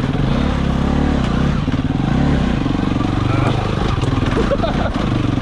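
An enduro motorcycle engine drones loudly and continuously while climbing up a rocky riverbed, with clattering from the terrain and a rider talking over it.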